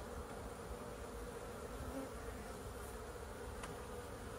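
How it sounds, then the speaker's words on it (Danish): Honeybees buzz around a nearly finished 500-gram pollen feed in March, a steady, dense drone of many insects that runs without a break, faint and even throughout. "Og det virker som om, at bierne stadigvæk er interesseret i det."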